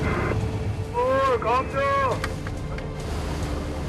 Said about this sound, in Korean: 바람 많이 부는 분인데.